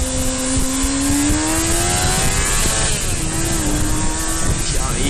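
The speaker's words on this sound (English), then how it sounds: "they're just revving for the fun." A car engine revs loudly and continuously in traffic during a road rage incident, a close, sustained roar with slowly rising and falling pitch.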